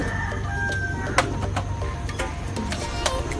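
Roosters and hens in a breeder's loft, with a rooster crowing and chickens clucking close by over a steady background hum of other birds.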